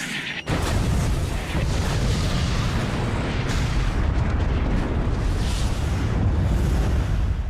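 A massive explosion of the battleship HMS Hood bursts in after a brief pause, then a sustained, rumbling roar of blast and debris fills the whole stretch, loud and dense.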